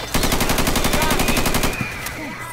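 Rapid automatic gunfire in a zombie survival video game rattles in a dense, steady burst at close range for over a second and a half, then cuts off, leaving scattered game sounds.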